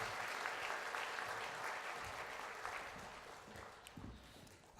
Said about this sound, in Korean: 다시 한번 큰 박수로 축하해 주시길 바랍니다